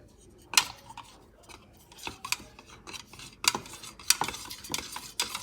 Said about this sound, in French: Il faut le diluer en mélangeant avec quelque chose. Par exemple, moi je vais utiliser le manche d'une cuillère.